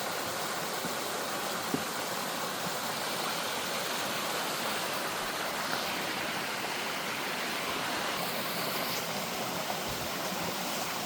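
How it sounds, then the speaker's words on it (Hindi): Rushing water from a waterfall along a walking trail in America pours in a constant, even hiss with no breaks, fairly loud and alone. "ये झरना है, पानी की आवाज़ है।"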